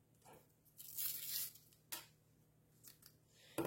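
Shears snip and tear through plant stems, a few sharp crisp cuts and rustles separated by quiet pauses, close and fairly faint.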